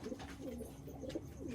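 Repeated rolling coos from desi and big kagji pigeons come in a quick rhythmic series, quiet but distinct against a constant background noise.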